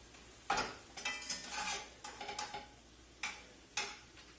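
Ground hamburger beef being broken up in a frying pan gives quiet scraping strokes of a utensil against the pan, irregular stirring scrapes over a faint sizzle, with no voices.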